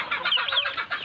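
Native chickens, including roosters, cluck and chatter close by in a brief, continuous flurry of overlapping calls.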